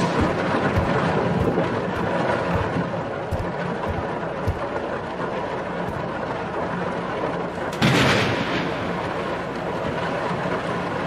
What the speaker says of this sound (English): Jeez, the storm is really picking up.